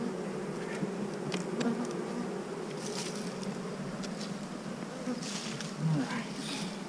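Honeybees buzz loudly around an overwintered hive, a thick continuous drone with individual bees zipping close by now and then; a few faint clicks and rustles sit under the hum.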